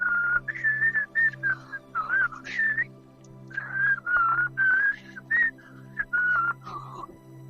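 A person whistles a wavering melody in short phrases with brief pauses, close and fairly clear over a low steady hum, no talking.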